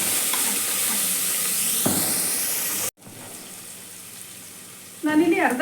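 Mutton curry ingredients frying in a pan give a steady close sizzle, which drops briefly at a cut and then returns with a burst of stirring clatter, and no one speaks.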